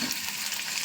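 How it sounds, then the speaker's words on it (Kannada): White sesame seeds frying in hot oil for a cumin rice dish, a steady, dense sizzle with fine crackle that holds evenly throughout, close up and with no voices. "ಇದಕ್ಕೆ ನಾನೊಂದು 1/2 ಸ್ಪೂನು ಬಿಳಿ ಎಳ್ಳು ಹಾಕ್ತಾಯಿದ್ದೀನಿ ಫ್ರೆಂಡ್ಸ್"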